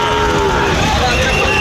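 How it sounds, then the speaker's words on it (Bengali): Cattle at a busy cattle market where bulls are being unloaded, one loud, drawn-out moo close by over a constant background of market noise. "আজকের হাটে দেখতে পাচ্ছেন কত সব গরু।"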